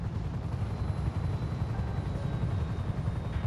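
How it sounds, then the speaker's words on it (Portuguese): Damaged helicopter sputtering in GTA V, a dense low rotor-and-engine rumble with rough, uneven pulsing, steady and continuous throughout with no voices. "Meu primeiro teste com o helicóptero e ele já tá falhando desse jeito."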